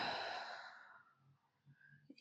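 A long, breathy exhale during a slow, gentle yoga relaxation practice, loud and close at first and then fading out over about a second, with faint quiet sounds after it.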